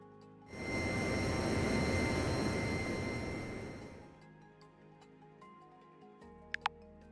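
Airplane in a flight video game roaring down the runway on takeoff, a loud broadband engine rush that swells quickly, holds for a few seconds, then fades away, followed by a few faint clicks.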